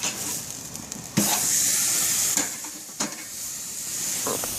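A ribeye steak sizzles on a grill with a steady broadband hiss throughout, broken by a few sharp spattering bursts as fat pops, close and loud with no talking.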